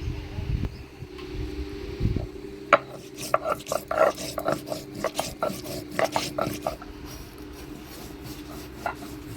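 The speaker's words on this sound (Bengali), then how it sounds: "প্রথমে সুগত রান্নার জন্য আমি বাইটে নিব আদা জিরা রাঁধুনি গোটা জিরা" Ginger, cumin and radhuni seeds ground by hand on a village grinding stone, giving a series of rough rasping strokes in an uneven rhythm, close and fairly loud, with a low background hum.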